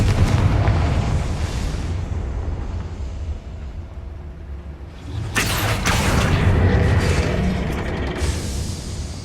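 A Confringo fire-blast spell bursts in Hogwarts Legacy with a loud, broad explosive boom roughly midway, after a steady rumbling bed of game sound, then a long rolling fade.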